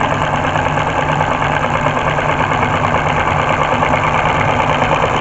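Up close, a small four-cylinder solenoid engine driving a Lego output shaft runs continuously, with a loud, rapid, uniform tapping rattle and hum like a sewing machine motor, steady for the whole stretch with no voices.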